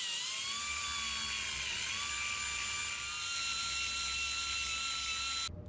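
A grinder runs at high pitch, porting and smoothing rough cast metal at the entrance of a 454 engine part, a steady whine that cuts off abruptly at the end.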